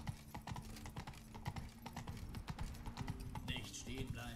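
Horse hooves on city streets in The Witcher 3: Wild Hunt (Blood and Wine), a steady, rhythmic clip-clop at a brisk riding pace, close and clear, with someone talking over it.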